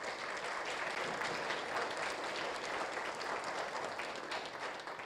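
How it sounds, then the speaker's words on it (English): Audience at a digital transformation forum applauding a government minister: steady, dense clapping from a crowd, sustained evenly throughout at moderate loudness with no voices over it. "I think he deserves a better round of applause"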